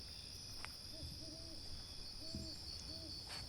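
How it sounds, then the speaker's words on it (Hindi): Birds call at dawn in the forest near Taughannock Falls in New York's Finger Lakes, with a few soft, hollow hooting notes spaced over a quiet, steady background hiss. "परिंदे चहचहा रहे हैं।"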